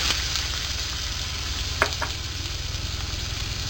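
Onions and curry leaves sizzle steadily and loudly close up in hot oil with popped mustard seeds, with a couple of light scraping clicks from stirring partway through.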